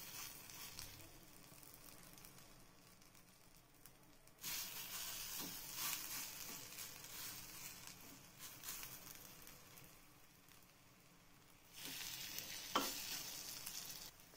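Sprouted moong and vegetable appe batter sizzles in ghee in an appe pan, a steady close frying hiss that swells louder twice as more batter goes in, with a faint clink of a utensil.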